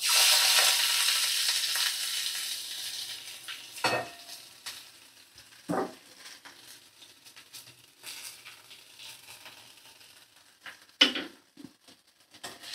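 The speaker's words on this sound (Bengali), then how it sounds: "পেঁয়াজ দিয়ে দিলাম, পেঁয়াজ দিয়ে নাড়াচাড়া করে নিচ্ছি" Chopped onions hit hot oil with cumin and sizzle loudly at first, then settle to a softer fry broken by a few scraping stirs from a spoon.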